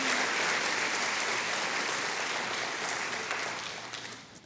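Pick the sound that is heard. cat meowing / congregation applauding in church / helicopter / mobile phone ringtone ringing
congregation applauding in church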